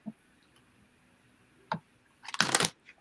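A large deck of Guiding Light oracle cards is shuffled: a few faint card taps, then a brief loud riffling burst near the end, close and without talk.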